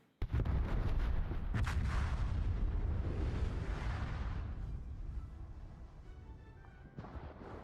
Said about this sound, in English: Conga line torpedoes from the Daring are connecting on Icy Nader Salem.